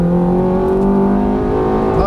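Ferrari F430 at full throttle on the Fontana track, engine pulling hard with a loud, sustained, rising tone for about two seconds, close and alone.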